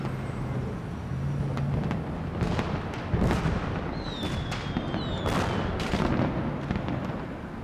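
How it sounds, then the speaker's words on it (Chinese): Fireworks bursting outdoors in a string of sharp cracks and pops with a few rising whistles, fairly close and irregular, over a steady background rumble and with no talk. "烟花"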